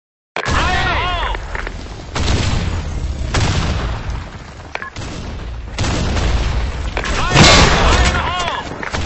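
A grenade blast in a military shooter video game, loud booms and bursts of gunfire ringing out repeatedly amid dense battle noise, with voices calling out across it.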